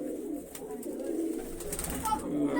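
Soft, low pigeon cooing repeats steadily in the background, with faint rustling and some indistinct movement around it.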